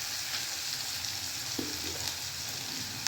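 Fenugreek and taro sautéing in oil in a pan, an even close hiss of frying with a couple of faint soft stirring scrapes.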